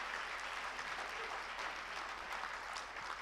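Steady round of applause from an audience at a South Asian awards ceremony, dense continuous clapping holding at an even loudness throughout, with no voices standing out.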